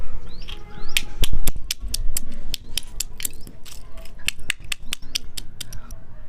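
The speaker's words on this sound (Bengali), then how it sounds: "ঝিনুকগুলো আমরা ভালো করে মিহিন করে গুঁড়ো করবো" Oyster shells are crushed into fine powder for pigeon feed, giving a dense run of sharp crunching and cracking clicks at an uneven, rapid pace, close and fairly loud, with faint higher chirps in the background.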